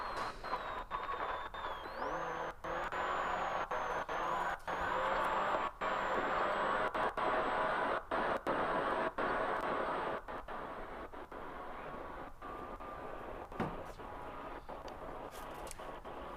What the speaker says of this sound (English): Sounds like a lot of acceleration and wind.